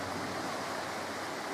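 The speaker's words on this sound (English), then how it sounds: "The only thing that bothered me all night was the sound of this running water," A stream runs steadily a few feet from a woodland stealth campsite, a close, continuous broadband rush of water with no pauses and no voices.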